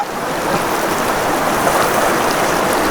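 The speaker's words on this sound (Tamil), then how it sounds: "பயங்கரமாக வருது மழை" Heavy rain pours down beside a river waterfall, a steady, dense, loud hiss of water with no voices.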